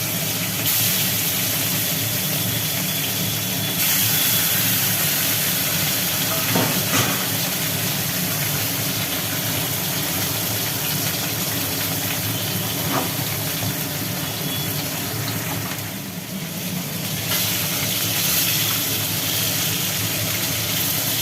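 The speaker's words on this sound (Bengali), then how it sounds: "এবার একটা একটা করে কাতলা মাছের পিস তেলের ওপরে ছেড়ে দেওয়া হচ্ছে ভাজার জন্য" Catla fish pieces fry in hot oil with a loud, broad, unbroken hiss that holds steady for the whole stretch, with a few faint clicks and no talk.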